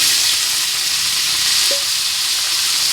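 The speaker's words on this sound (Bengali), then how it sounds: "আর দেবো সাদা তেল একটু। দিয়ে দেবো বিনস," Beans frying in white oil give a loud, steady, close sizzle and hiss that holds for the whole stretch, with a faint brief clink partway through.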